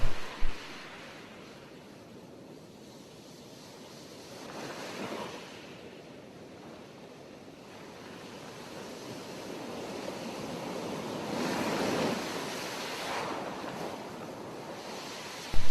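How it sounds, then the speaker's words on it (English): Ocean surf rolls in slow swells of hissing noise, waves building and receding with some wind, no voices. "a big wave of water shook his boat, wakening him in his deep snooze"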